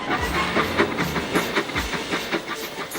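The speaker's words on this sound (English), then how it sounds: "The breakdown train! Quickly!" Cartoon breakdown train running on rails, a steady rhythmic clickety-clack of wheels over rail joints with a soft steam hiss, fairly loud and continuous with no talking.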